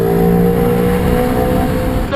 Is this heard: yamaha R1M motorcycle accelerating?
yes